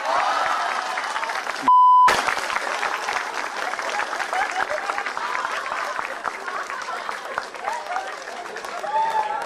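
A live comedy audience applauds in sustained, dense clapping that fills the whole stretch, broken briefly by a short censor beep near the start.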